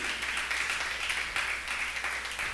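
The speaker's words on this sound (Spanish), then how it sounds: "Vuélvele a dar un fuerte aplauso al Señor" A church congregation applauds together, a steady, dense wash of clapping that holds at an even level from start to finish with no voices on top.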